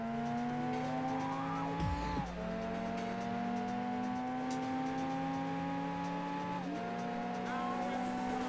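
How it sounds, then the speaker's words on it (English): Car wheels spinning and tires squealing in the Gran Turismo 2 racing game, a steady engine drone with a rising pitch, gear shifts and squeals over about eight seconds, no talk. "There's that wheel spin again, but it's not as bad."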